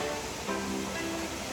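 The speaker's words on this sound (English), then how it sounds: "that, my friend, is another waterfall here in El Yunque" A waterfall in the El Yunque rainforest pours in a steady, full rush of falling water, with a faint tonal hum briefly over it.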